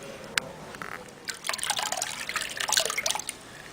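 Water trickles and splashes gently as it is poured over a newborn baby in a bath, soft irregular drips and a brief fuller stream, close by and fairly quiet, with no talking.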